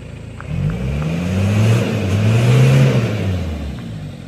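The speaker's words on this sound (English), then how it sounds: "he's just going to go fire it up, and we'll let you just hear the exhaust on it" A car engine fitted with a new exhaust turns over and settles into a deep, throaty idle with a low rumble that swells slightly, close to the exhaust.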